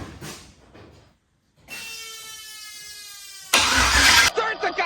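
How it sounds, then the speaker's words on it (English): A turbocharged, LS-swapped Ford car engine cranks and fires up: a starter whine rises after a brief pause, then the engine catches with a loud, broadband roar near the end. "Start the goddamn car, Joel!"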